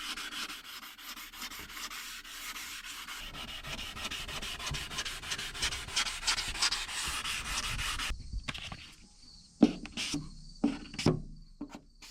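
Steady abrasive rubbing of wet sanding on spray-can car paint, using water with dish soap, for several seconds, then it stops and a few sharp scrapes and taps follow in quiet.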